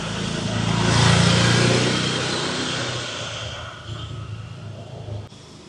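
A motorcycle rides past on a city street in Da Nang, Vietnam, its engine swelling to a loud peak in the first seconds and then fading as it moves away, with street background beneath.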